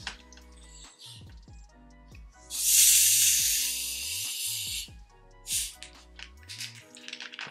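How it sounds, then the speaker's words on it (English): Freshly opened fizzy drink poured into a glass, a loud steady carbonated hiss swelling for a couple of seconds then tapering into softer crackling fizz, with clinks and bright pops around it, close to the microphone. "That sounded like a nice little consistent fizz"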